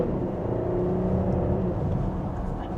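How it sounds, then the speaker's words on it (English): A Porsche in sport mode with manual gear setting accelerates gently, a steady, smooth engine hum and whir heard from inside the cabin, moderately loud and continuous without sharp revving. "So with it in sport mode and the manual setting, let's give it a small acceleration"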